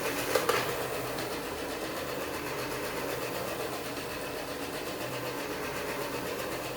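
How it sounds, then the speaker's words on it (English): An ETI multi-surface rug cleaning machine scrubbing carpet, a steady mechanical whirring and brushing drone running unbroken throughout, fairly close, with no talk. "Great thing about this machine is it's going into the carpet, lifting up any debris, really scrubbing."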